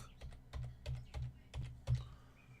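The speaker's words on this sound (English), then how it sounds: "then type in the word look" Typing on a computer keyboard, with a steady run of close, distinct key clicks in an uneven rhythm while symbols are entered into trading software. No voices accompany it.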